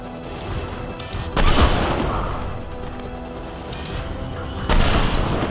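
Gunfire during a Mass Effect 3 firefight, heavy bursts of shots and booming impacts rising over a steady battle din, with loud peaks recurring through the scene.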